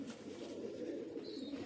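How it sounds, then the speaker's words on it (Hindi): Pigeons in a fancier's loft in Karanja, Vidarbha, coo in a continuous low, throaty murmur. The sound is close and fairly soft, with no talking. "सारे कबूतर मस्तियाँ कर रहे हैं।"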